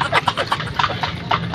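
Horse hooves clip-clop steadily on pavement as the horse pulls a kalesa carriage, close and fairly loud, a quick even rhythm of hoofbeats with faint voices behind.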